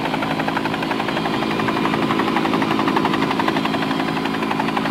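An RAF fire service helicopter's rotor thumps in a rapid steady rhythm over a loud engine drone, close and continuous throughout.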